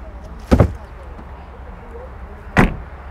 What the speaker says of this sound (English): shutting the door here, the door sounds solid